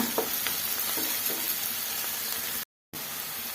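Onions frying in ghee until golden, a dense, steady sizzle heard up close with a few faint stirring scrapes, cut by a brief moment of silence near the end.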